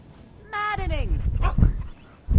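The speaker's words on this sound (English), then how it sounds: "Happy bark." A dog gives a single happy, whining yip that slides down in pitch, with rumbling game sound and noise continuing behind it.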